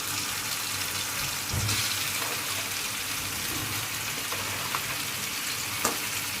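Cleaned crab fries in masala with a steady, moderate sizzle that is mostly even, with a few faint clicks from stirring.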